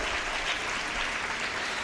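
Dense, steady clapping from an audience at a school talent show and prize ceremony, loud and continuous through the short stretch.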